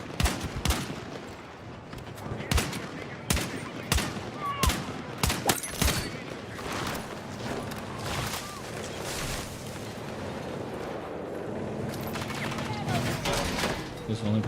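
The SVK DMR rifle in a shooter game fires at a slow, steady rate, heavy individual cracks spaced about half a second to a second apart over several seconds, with talk and ambient game noise continuing underneath.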